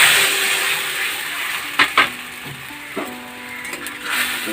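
A mix of milk, salt, sugar, flour and turmeric is poured into a hot pan for a Bengali chili curry (lonka jhol). A loud, steady sizzle carries a few spoon clinks and knocks, with no voices.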